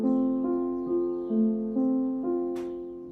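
Piano chords played slowly, each ringing briefly before the next, about seven changes in a calm steady sequence with no voices.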